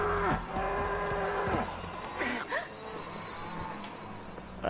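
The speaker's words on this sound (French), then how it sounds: "Putain, oh la vache, des cerfs." Deer in the video game Until Dawn give several low, drawn-out bellowing calls in quick succession, fairly close and loud over a dark ambient background.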